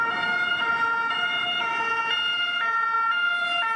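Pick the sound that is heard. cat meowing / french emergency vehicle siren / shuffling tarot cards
french emergency vehicle siren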